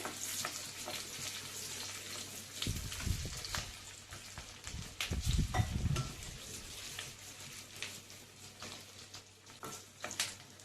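Onions frying in oil for capsicum masala, a quiet steady sizzle with a couple of louder rumbling bursts as the pan is stirred, plus light clinks of a utensil.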